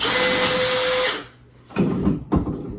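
A power drill loosens a fixture in a 1970s bathroom remodel: a loud, high whine runs for about a second, cuts off, then two dull knocks follow close by.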